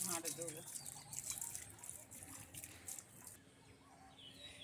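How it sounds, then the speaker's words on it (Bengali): A garden hose pipe runs water onto plants in a rooftop garden, a soft steady splashing and trickle heard faintly beneath a nearby voice. "মা পাইপ দিয়ে এখনো জল দিয়ে যাচ্ছে"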